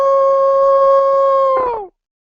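A man imitates a wolf howl with his voice, one sustained steady tone that holds and then slides downward before cutting off, loud and close with no other sound.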